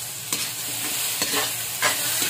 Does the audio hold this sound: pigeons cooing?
no